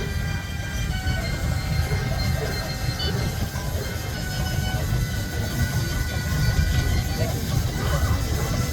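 A Fowler showman's steam traction engine runs in a parade, giving a continuous loud mechanical rumble and clatter up close. People's voices and crowd noise mix in underneath.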